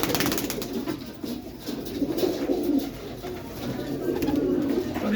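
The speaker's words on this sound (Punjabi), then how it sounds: "ਰੰਗਾਂ ਵਾਲੇ ਕਬੂਤਰ ਰੰਗ ਵਾਲੇ ਕਬੂਤਰ ਸਾਹਮਣੇ ਉੱਡਣ ਵਾਲੇ ਕਬੂਤਰ" A flock of pigeons at a bird sale coos in a low, steady overlapping murmur, close and continuous, with some light background rustle.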